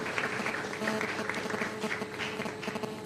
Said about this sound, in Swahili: Sasa wote tusimame na tumpigie makofi mengi sana Mheshimiwa Rais wa Jamhuri ya Muungano wa Tanzania